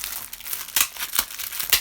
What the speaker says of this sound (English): Sorry, I know that plastic was probably really loud.